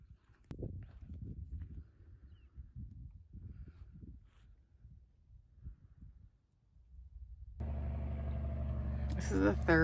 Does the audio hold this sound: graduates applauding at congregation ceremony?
no